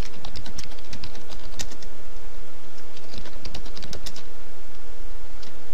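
Fast, uneven keystrokes on a computer keyboard as a command is typed, a near clatter of clicks in short bursts with brief pauses, no voices.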